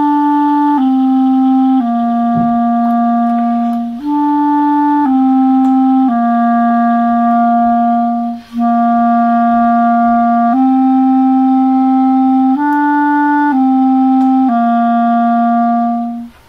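Clarinet plays the simple three-note beginner tune Hot Cross Buns, starting on E, in sustained steady notes with brief breaks between phrases, close and clear with no talking.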